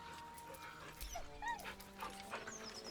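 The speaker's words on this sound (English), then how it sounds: "The dog whimpers nervously" A dog named Scratch in Baldur's Gate 3 whimpering nervously, a few short high whines and yips close up over a faint background hum.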